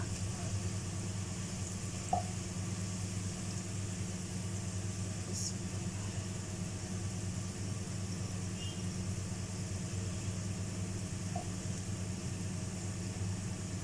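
Sliced onions fry in cooking oil for chicken biryani, giving a steady, soft, close sizzle that continues evenly throughout with only tiny occasional pops.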